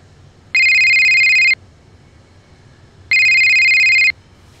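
Telephone ringtone ringing in a French drama series, two loud electronic rings of about one second each separated by a pause, heard alone without talk.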